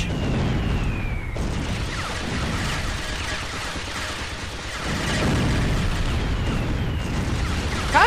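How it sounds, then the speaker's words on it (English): Bombs burst repeatedly in the shooter game Jets and Guns, a dense run of loud, booming explosions layered over rumbling and crackling debris with a brief lull midway, close and continuous with no speech. "Kinda liking these bombs for this."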